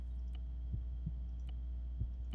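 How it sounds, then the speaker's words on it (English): A steady heartbeat from the ArmA III military game thumps low and regular, about one soft double beat every second or so, under a constant low hum with faint clicks. "Oh, what a lovely heartbeat."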